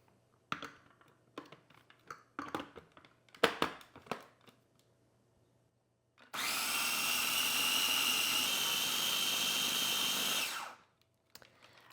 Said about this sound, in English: I'm gonna take the top to my little food processor, and we are gonna pulse until smooth.